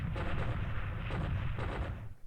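Naval battle explosions and gunfire in the wargame War in the Pacific, a dense continuous barrage of booming blasts with repeated sharper bursts over about two seconds, loud and sustained before tapering off.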